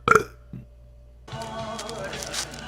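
A girl burping in a played video, a short loud burp at the start, then a brief pause before talking and background sound continue.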